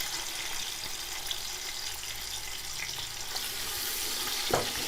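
Onions sautéing in a pan for chana pulao, a soft steady sizzle with faint scraping, fairly quiet and continuous, no talking.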